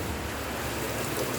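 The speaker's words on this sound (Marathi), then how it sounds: "मित्रांनो पाऊस भरपूर आहे." Heavy rain pours in a dense, unbroken hiss, loud and close, with no voices.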